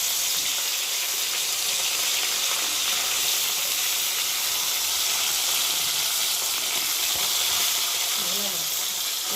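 Bhola fish frying in hot oil in a wok, a loud, dense, continuous hiss of sizzling oil that holds steady from start to finish, heard up close.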